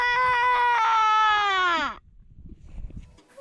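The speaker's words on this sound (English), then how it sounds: "I asked my dad if I could do a war scream" A child's war scream, one long loud high-pitched yell lasting about two seconds that bends downward at the end, followed by quieter rustling and faint background noise.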